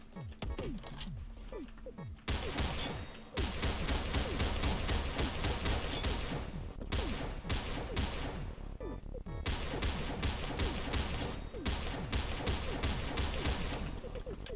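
Battle rifle gunfire in the Phantom Forces shooter game: dense, rapid bursts of shots crackle almost nonstop, with short pauses between volleys, loud and close, plus other battlefield clatter.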